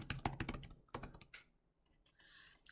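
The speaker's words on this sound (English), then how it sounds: "So here I will go ahead and type in task completed." Typing on a computer keyboard: a short, quiet flurry of close clicking keystrokes, then a brief pause and a few more taps, with no talking.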